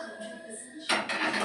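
A pressure cooker set down on a gas stove in a home kitchen, a soft metallic clunk followed by a brighter clatter of metal against the burner grate, close and brief over a faint background hum.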